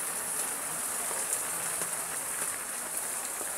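Heavy rain pours steadily, a dense hiss of drops pattering on surfaces all around, loud and unbroken, heard from a tricycle.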